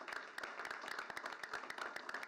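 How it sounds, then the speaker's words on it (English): Crowd applause for retirees at a school board meeting, a steady patter of many hands clapping that continues evenly for a couple of seconds. "Can we get another round of applause for all of our retirees?"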